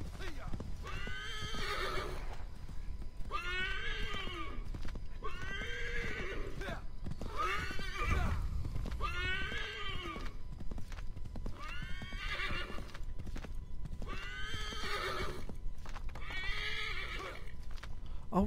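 Steady rhythmic hoofbeats of a galloping horse in Assassin's Creed III run throughout, with repeated loud whinnies rising above them at regular intervals.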